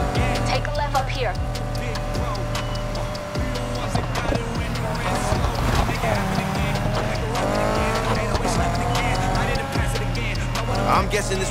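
Street race cars from Need for Speed Heat roar continuously with engine revving and repeated tire squeals, loud and close throughout, under a steady music bed.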